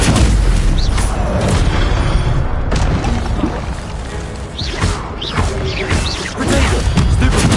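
A Stupefy spell cast in the video game Hogwarts Legacy: loud booming blasts with crashing impacts over a steady, roaring din, close and continuous for several seconds, with no speech.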